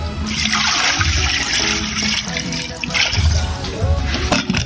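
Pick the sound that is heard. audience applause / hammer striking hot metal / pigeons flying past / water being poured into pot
water being poured into pot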